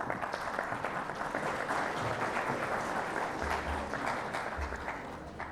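Steady audience applause at an academic law lecture on family law, dense and continuous for the whole stretch with no talk over it.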